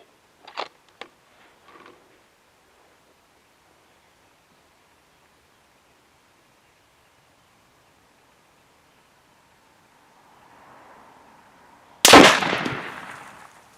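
A Mauser M18 rifle in 6.5 PRC fires one loud, sharp shot near the end, with a brief decaying report, after long near-silence broken only by a few faint clicks.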